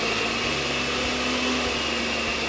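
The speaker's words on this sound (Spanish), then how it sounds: "En la licuadora." An electric blender runs steadily in a kitchen, crushing Oreo cookies into crumbs for an Oreo cake, a loud continuous motor whir with a faint rattling of cookie pieces and no talking.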